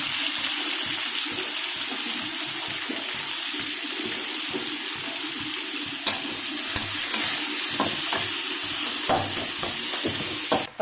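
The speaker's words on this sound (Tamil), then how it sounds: "இப்போ பாருங்கள், வெங்காயம் தக்காளி நல்லா வதங்கிடுச்சு." Chopped onions and tomatoes sautéing in a pan for a river catfish curry, giving a steady sizzling fry with intermittent stirring scrapes and clinks, close and continuous throughout.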